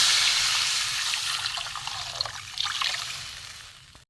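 Water poured into a pan of egg curry, a steady close rush and trickle lasting a few seconds that tapers off and stops abruptly.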